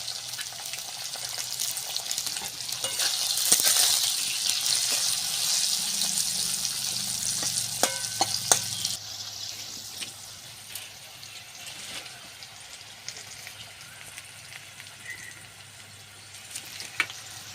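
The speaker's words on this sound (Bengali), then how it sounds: "ঢ্যাঁড়সগুলোকে আমি ভালো করে ভেজে নেব" Okra dusted with turmeric fries in oil for a spicy potato-okra dish, giving a steady close hiss and sizzle with scattered clinks and scrapes of stirring throughout.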